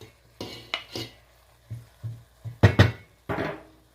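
A spoon scraping and knocking through rice in a pot while mixing pea biryani, about nine short, distinct scrapes and clinks in an uneven rhythm, close and clear with quiet gaps between.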